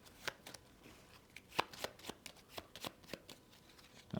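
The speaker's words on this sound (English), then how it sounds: "We shuffle that up." A deck of cards shuffled during a tabletop board game at sea, a string of crisp riffling and tapping bursts in an uneven rhythm, close and fairly quiet.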